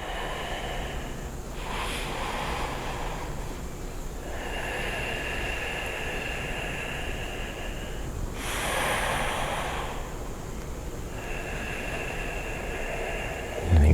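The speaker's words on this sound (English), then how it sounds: "Lengthening the breath through ujjayi breathing." Slow ujjayi breathing during a yoga session, long hissing breaths drawn in and out through a constricted throat, repeating in a steady cycle over a continuous low background hum, with no talk.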